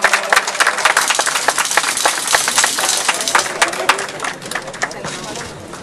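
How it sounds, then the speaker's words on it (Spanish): An audience at an office inauguration in Puerto Vallarta breaks into lively applause, many hands clapping with crisp individual strikes audible throughout, close and loud, easing slightly toward the end. "Fuerte el aplauso."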